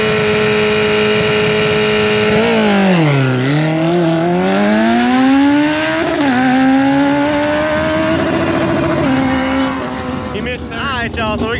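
A 2005 Suzuki Hayabusa drag bike makes a run, its engine screaming loudly as the pitch dips and then climbs through a series of rising shifts, nearby and constant throughout.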